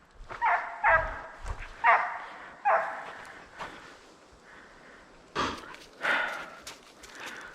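Hunting dogs on a deer hunt bark in a run of loud, close, repeated barks, pausing and then barking again in bursts, with a few faint whimpers between.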